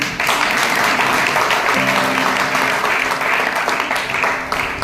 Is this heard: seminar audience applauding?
yes